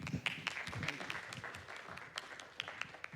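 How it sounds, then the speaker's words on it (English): Scattered audience applause at an Ethereum conference talk welcomes a speaker, with a sparse mix of individual claps, moderately close and fairly quiet. "So let's give him a round of applause."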